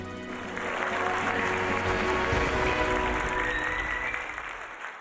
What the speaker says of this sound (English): Let's give another round of applause for Wen Xiaoyu.